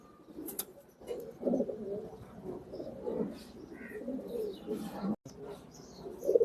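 Pigeons of the Urojahaj bloodline coo in soft, low, throaty rolls, close and fairly quiet, repeating through the whole stretch with a few faint chirps and some rustling.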